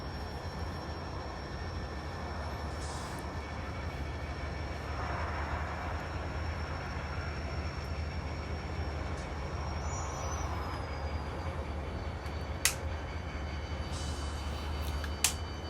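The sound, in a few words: model N scale train running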